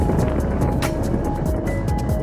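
Motorcycle engine labouring up a steep mountain road under a heavy load on the way to Chamba, a steady close drone with wind rush that holds on without letup.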